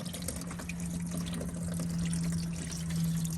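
Coolant pours out of the radiator of a Ford BA/BF Barra engine in a home shed, a steady close splashing flow of liquid that holds constant and swells slightly toward the end.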